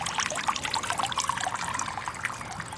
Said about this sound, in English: And we've got the pump in there. Like I say, it's actually running right now